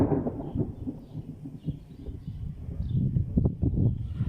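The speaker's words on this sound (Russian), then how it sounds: "Люблю грозу в начале мая." Thunder rolls through a spring thunderstorm in low, rumbling swells that rise and fade, with a few faint birdcalls above the rumble.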